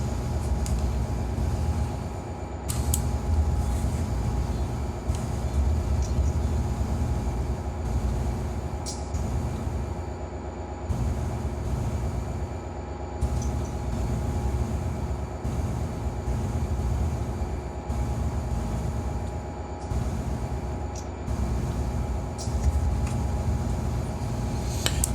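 Locomotive dynamic braking in the Run 8 train simulator game, a steady loud droning roar with a constant whine that runs unbroken through the whole stretch, with no talk over it.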